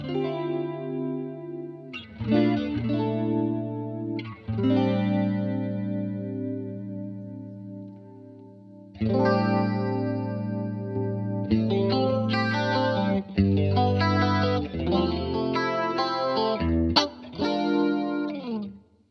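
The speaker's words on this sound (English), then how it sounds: "I've got a dimension, a big lush Boss dimension style." Clean electric guitar chords through a lush, wide Boss Dimension-style chorus effect from a Boss MD500, played in several phrases with pauses between, shimmering and close.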